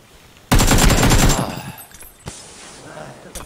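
Gunfire in a shooting video game: a loud, rapid automatic burst of about a second, followed by trailing echoes and a couple of isolated single shots.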